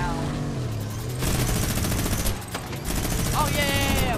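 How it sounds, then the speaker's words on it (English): Minigun turret firing in a video game, a dense continuous rattle of rapid shots, with a voice speaking over parts of it. "Lucas, that minigun does extra damage to vehicles."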